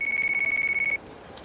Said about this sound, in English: Oh, my phone.